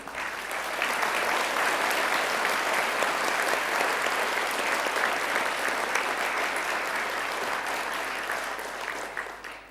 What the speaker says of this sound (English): Can I please ask for a final round of applause for all our amazing award recipients?